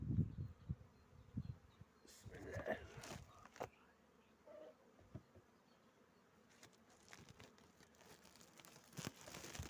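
Honeybees buzzing in a hive, a faint, wavering drone with brief closer passes, mixed with light rustling and crinkling sounds.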